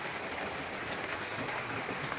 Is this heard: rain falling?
yes